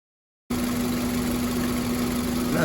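A 2023 Chevy Colorado engine idles steadily while warming up, with a constant low hum and faint mechanical vibration close by, and no voices.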